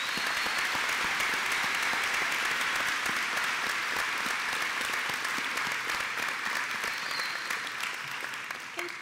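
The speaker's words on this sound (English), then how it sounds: "so let's have another round of applause for these graduates." Loud, sustained round of applause from a large crowd honoring graduates at a college commencement ceremony, a continuous wash of clapping that tapers slightly at the end.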